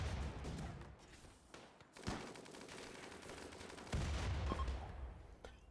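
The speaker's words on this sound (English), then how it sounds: "let's just keep grenading this thing" Grenades explode against a mech in RimWorld, faint distant blasts and crackling gunfire arriving in a few sharp bursts within a busy battle din.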